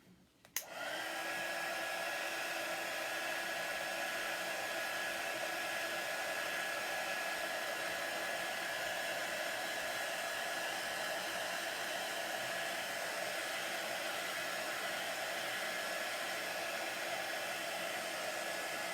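A hair dryer drying chalk paste switches on near the start and runs as a loud, steady whoosh with a faint whine throughout, close and alone.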